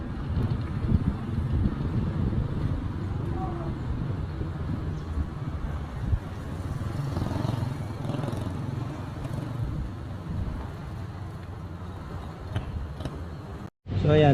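Strong wind buffeting the microphone at the dusty SLEX TR4 road construction site in San Pablo, Laguna, a constant low rumbling roar with gusts, under a man's speech.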